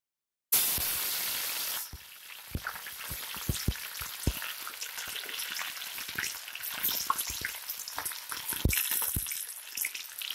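Onion dropped into hot oil in a home kitchen pan crackles into a sudden loud sizzle, then keeps up a steady frying hiss dotted with pops and spatula taps; nobody speaks.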